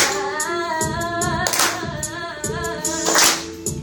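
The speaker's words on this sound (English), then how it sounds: "Come on, clap your hands." An audience claps hands in a steady rhythm along with a live song at a poetry event, the sharp claps landing regularly over sung music.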